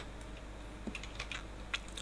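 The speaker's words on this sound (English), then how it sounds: "just press S on the keyboard and move your mouse" Quiet computer keyboard key presses while working in Blender, a few soft, scattered clicks over a faint steady hum, close and isolated.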